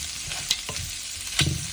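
Coconut paste being stirred into a prawn fry (chemmeen fry) in a hot pan, with a steady low sizzle and a few distinct scraping strokes of the spoon against the pan.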